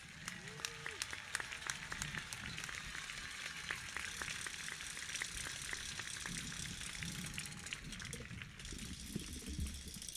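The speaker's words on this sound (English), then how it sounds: "Let's give our class of 2025 another thunderous round of applause, please." Applause from a graduation ceremony crowd honoring a high school class of 2025, a steady dense wash of clapping that continues throughout with some crowd voices mixed in.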